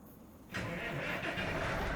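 A tractor engine in Farming Simulator 25 cranks and catches after a half-second of near silence, then settles into a steady, close, moderately loud running rumble with no talk over it.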